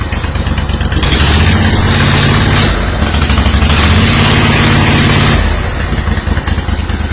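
A Steiner zero turn mower engine runs steadily at close range, a loud rough mid-pitched drone with a slight rise in pitch midway, with no talking over it.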